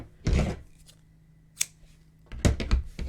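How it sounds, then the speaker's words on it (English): Scissors snip through crochet yarn close up, a couple of quick, crisp cuts separated by a brief pause with a faint click between them, in an otherwise quiet room. "cut my yarn"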